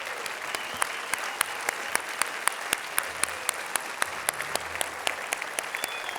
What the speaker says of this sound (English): Stand up and give yourselves a round of applause.